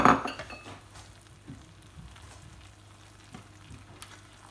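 Pea and butter risotto gently stirred in a pan, with soft scraping and a few light utensil clinks against the pan over a low background hum, close but quiet after a brief louder knock at the start.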